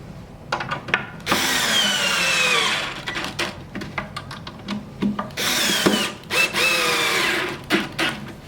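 A power drill drives screws into a Barker Modern cabinet during assembly, with sustained whirring bursts of a few seconds each and short clicks and handling knocks between them, close and loud.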